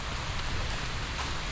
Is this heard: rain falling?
yes